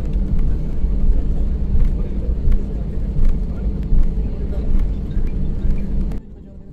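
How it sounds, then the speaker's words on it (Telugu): A passenger plane on the way to Goa rolls before takeoff, its engines a loud, steady low rumble heard from inside the cabin. The roar holds constant, then cuts off sharply near the end. "ఫ్లైట్ లో టేక్ ఆఫ్ కాకముందు సౌండ్ అలా వస్తుందన్నమాట"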